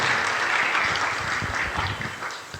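A church congregation claps together in sustained, dense applause, filling a large room steadily for a few seconds with no words spoken over it.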